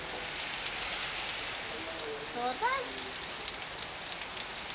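Steady rain falling on a surface fills the clip with a continuous faint hiss, while a brief voice speaks over it near the middle.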